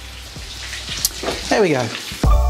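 Homemade fish fingers shallow frying in oil give off light sizzling and scattered crackles and pops, close up, while a person speaks briefly over them.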